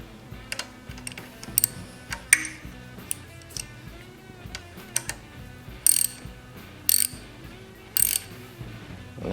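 Ratchet with a 7/16 socket tightening a bolt on a Briggs V-Twin Intek engine, sharp clicking pawl bursts in irregular runs, close and fairly quiet, no talking.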